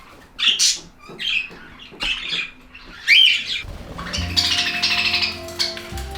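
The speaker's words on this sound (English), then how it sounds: "Not only do I have budgies in the aviary, but also in my room." Budgies in an aviary give sharp chirps and squawks in short bursts, close and fairly loud. A low mechanical hum joins them partway through.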